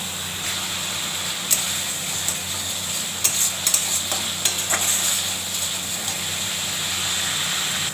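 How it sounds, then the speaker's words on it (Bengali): Fish sizzles in a hot pan with turmeric and cumin powder as it is stir-fried for a Bengali fish curry, a steady frying hiss broken by several sharp scrapes and clinks of a spatula, close and without talk. "হলুদ আর একটু জিরা গুঁড়ো, ভালো করে কষিয়ে নেব।"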